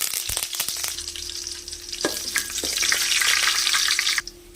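Fennel seeds, two dried red chillies and a sprig of curry leaves fry in hot oil for a soya pepper fry, giving a loud, close, steady sizzle with crackling pops and a brief stir.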